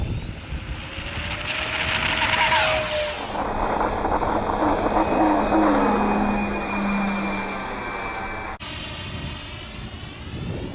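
An RC Villain jet model flies on a windy day, its engine a loud, sustained roar that shifts in pitch as it passes, with wind buffeting throughout and no voices.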